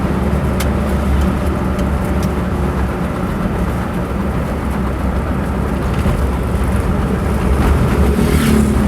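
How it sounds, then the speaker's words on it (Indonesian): An Agra Mas bus passes on a night road between Pacitan and Wonogiri, heard from a riding motorbike as a loud, continuous engine and wind roar with a brief swell of passing traffic near the end. "Bis Agra Mas yang lewat tadi ya."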